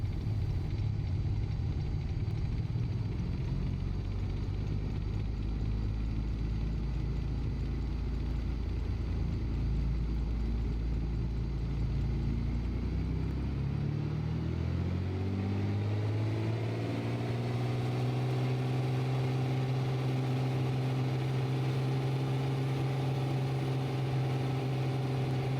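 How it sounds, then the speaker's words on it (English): Piper Turbo Arrow IV single-prop engine in Microsoft Flight Simulator idles with a low rumble, then the revs climb steadily into a strong, rising harmonic drone that holds loud and steady to the end, no voices. "the engine sounds a bit different here in the Turbo Arrow 4"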